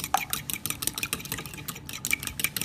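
An egg whisked in a small bowl for gluten-free chocolate chunk cookie batter, the whisk clicking quickly and rhythmically against the sides, close and clear with no talking.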